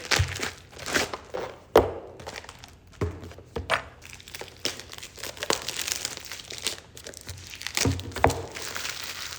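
A JetKVM box being opened, with close crinkling and rustling of packaging broken by sharp thunks and tearing snaps at irregular moments.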